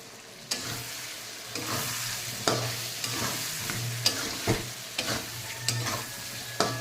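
Boiled potatoes stir-fried in oil with chili powder, a continuous sizzle under repeated clacks and scrapes of a spatula against the pan at a loose, uneven pace, close and clear with no speech.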